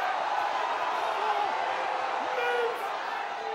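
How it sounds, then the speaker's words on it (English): A stadium crowd roars steadily at a 2011 Challenge Cup rugby league match between Halifax and Bradford Bulls, a dense, sustained wash of voices that holds loud throughout and eases slightly near the end. "Roars from the crowd, who again thought that was a forward pass"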